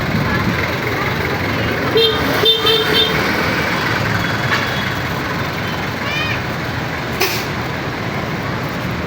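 Dense street traffic jam with several car horns tooting in short bursts over a steady roar of engines, among them trucks and buses, heard close by while people talk nearby.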